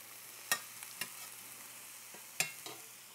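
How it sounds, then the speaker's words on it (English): Onions and pork cooking in a pan, a low steady sizzle with a few sharp clinks and scrapes as the food is stirred, faint and close with no talking. "as soon as our onions are sweated,"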